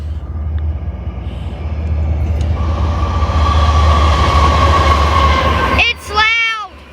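CSX freight train with tank cars rumbles past close by, a loud sustained roar with rattling wheels building steadily, then a sharp screech near the end; people talk over it.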